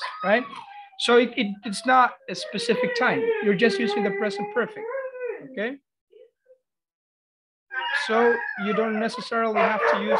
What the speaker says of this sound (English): sorry about my dogs, but they are crazy.